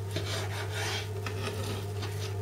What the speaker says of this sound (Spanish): a la pieza principal del lomo vamos a partirla en este caso en dos piezas